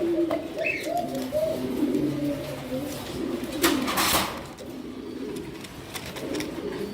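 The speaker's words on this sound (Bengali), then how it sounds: "অসাধারণ পেয়ার দামাসিন কবুতর" Soft, repeated coos of Damascene pigeons murmur close by, layered over a low background hum with a brief rustle partway through.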